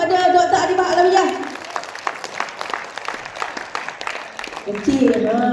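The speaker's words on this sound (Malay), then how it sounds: "Beri tepukan gemuruh kepada Dr. Adibah Alawiyah" Applause from a seminar audience at a health-awareness talk, steady clapping under an announcer's voice that fades after about a second and a half, then continues more softly before talking resumes.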